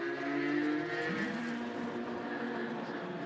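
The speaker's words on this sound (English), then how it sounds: "So the 2 car is back on the road." A race car, the No. 2 car, circulates on track during an endurance race, its engine a steady, sustained drone with shifting tonal harmonics throughout, at a moderate distance, with no clear pass-by.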